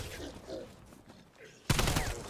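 A burst of AK-74U automatic gunfire in the Cold War Zombies video game, starting abruptly after quieter game ambience and sustaining loud rapid shots to the end.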